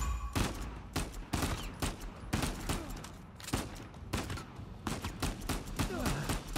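Gunfire in the video game Uncharted 4: continuous rapid shots, dense and rhythmic like a sustained firefight, moderately loud throughout without a break.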